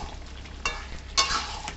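Chicken kosha frying in a pan as it is stirred, a steady low sizzle broken by two sharper scraping, stirring bursts, close and alone with no talk.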